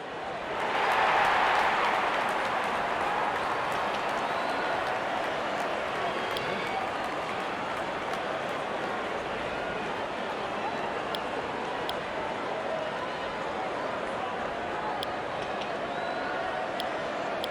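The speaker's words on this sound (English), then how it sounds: "Openers walking in and the crowd cheering in anticipation." Crowd cheering and applause from a cricket video game match between South Africa and Australia, a steady broadband roar that swells at the start and then holds for the whole stretch.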